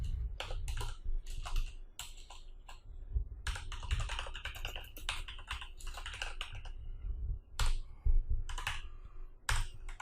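Computer keyboard typing while JavaScript code is entered, bursts of close, crisp key clicks in uneven runs with short pauses and a few louder taps.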